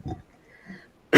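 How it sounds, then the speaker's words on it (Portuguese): A man clears his throat with a short rough rasp during an academic master's thesis defense, followed moments later by a second, louder hacking burst, close to the microphone. "Acabei de dar um pigarrinho aqui."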